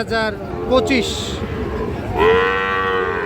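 Several young Sahiwal bull calves moo in drawn-out calls amid a busy outdoor cattle market crowd, voices chattering in the background.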